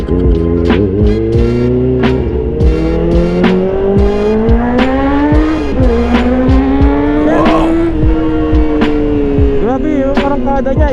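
A Kawasaki ZX4 RR inline-four motorcycle with a torque upgrade revs hard and accelerates, its high-pitched engine note climbing and dropping through gear changes, loud and close throughout.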